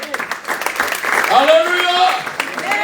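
A church congregation applauds, with a loose clatter of clapping hands under a raised voice and a few vocal cheers.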